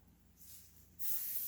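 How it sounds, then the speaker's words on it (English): Cooking spray hisses from an aerosol can onto hands in two short bursts, a softer brief puff followed by a louder sustained spray, close and alone. "spray your hands with some"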